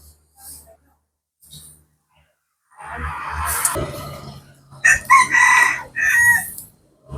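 Chickens crow in the evening before roosting, with one long crow near the middle followed by a louder, choppier crow close by, and quiet gaps between them.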